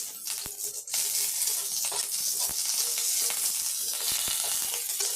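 Mustard seeds, urad dal and curry leaves frying in hot oil give a loud, dense sizzle with sharp crackles and pops scattered throughout, close and continuous with no voices.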